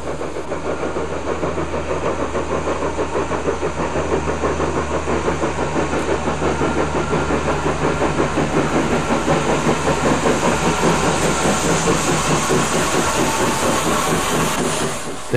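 A steam locomotive hauling five heavily loaded carriages labours up a 1-in-25 curved grade in the Harz mountains, its rapid exhaust beats loud, close and continuous over a steady mechanical roar.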